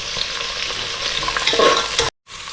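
Bay leaf, onion and tomato stir-fry in a hot pan with a close sizzle and scraping stirs, ending in a brief cut of silence before the frying resumes.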